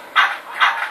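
A dog in a video game barks twice in quick succession. The barks are bright and fairly loud, with no talking over them.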